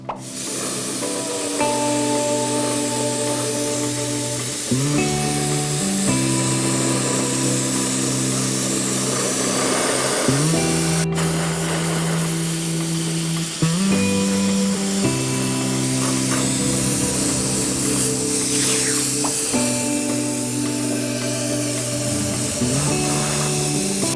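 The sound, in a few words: spray painting an RC car body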